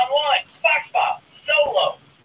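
A Bop-It Extreme 2 handheld electronic toy emits a few short, bright synthetic voice-like calls in quick succession, close and clear over about two seconds.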